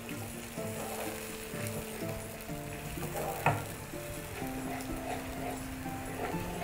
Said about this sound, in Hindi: प्यूरी को भी टमाटर के साथ ही भून लेंगे।